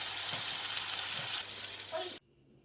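Sole fillets fry in a pan with loud, steady hissing sizzle close by, the level dropping partway and then cutting off abruptly into near silence.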